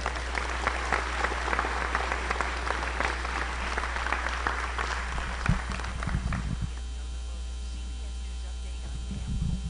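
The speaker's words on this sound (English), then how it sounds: "Round of applause, please, for our freshmen." An audience at a high school academic awards ceremony claps for the freshmen, a dense patter of many hands over a steady mains hum, thinning out after about six seconds into scattered claps.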